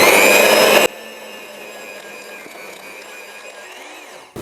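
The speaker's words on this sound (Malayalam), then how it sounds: "നമ്മൾ ചെറിയ സ്പീഡിൽ ഇത് ബീറ്റ് ചെയ്തെടുത്തിട്ടുണ്ട്" An electric beater runs at low speed through vanilla yogurt cake batter, with a loud burst at first, then a steady, even motor whir that holds for several seconds before a short knock at the end.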